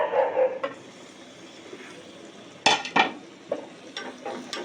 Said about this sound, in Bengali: দিয়ে রসুনটা একটুখানি ভেজে নেব বাটারের সাথে